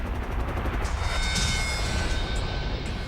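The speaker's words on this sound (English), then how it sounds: "Another violent explosion shakes the platform." An explosion on the Piper Alpha oil platform in the North Sea comes as a dense, roaring broadband rumble. Crackling bursts run through it continuously, loud and unbroken.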